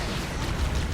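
A grenade blast in Halo: CE Anniversary: a short, loud, rumbling boom that fills the whole moment with broad roaring noise.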